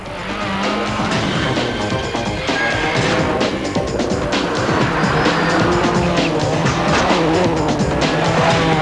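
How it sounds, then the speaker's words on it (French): Subaru rally car on Pirelli tyres driven hard on a Rally of Catalonia stage in Spain: a loud, sustained engine roar with rising and falling revs and tyre squeal, close and continuous. "La première voiture en pneus Pirelli, la Subaru de Mäkinen justement"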